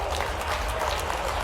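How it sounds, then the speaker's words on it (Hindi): Applause from an audience at a political rally with the state chief minister, a dense, continuous wash of clapping crowd noise, loud and close, with some voices mixed in. "आप ताली वाली बजाते जाओ"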